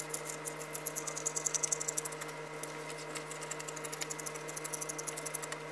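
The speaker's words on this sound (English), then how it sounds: "Now I'm gonna go ahead and make the ruffle, sew that on." A sewing machine stitches a long fabric ruffle for a bench slipcover, a fairly faint, rapid needle patter in regular bursts over a steady motor hum.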